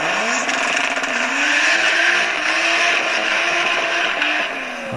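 A car engine revs hard from a played racing video, loud and continuous with a rising, roaring tone throughout, and no talk over it.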